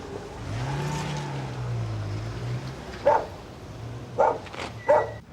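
A dog barks three or four times, short sharp barks over a low engine rumble, fairly close but not loud, in a 1992 British police drama scene.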